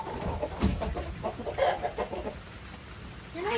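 Backyard pet chickens in a coop cluck in short, soft bursts, fairly close, with quiet gaps in between and a rising call near the end.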